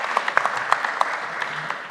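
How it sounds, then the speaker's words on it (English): Conference audience applauding panelists, a sparse, modest clapping with distinct individual claps standing out over a soft wash, fairly distant. "Please give them a round of applause."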